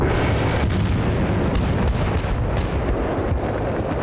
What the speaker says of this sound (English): I hear another tank